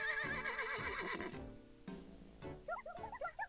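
A horse in distress neighs in the video game Miitopia, a rising and falling whinny that fades out, followed by several short bright chirping game sound effects, with no speech.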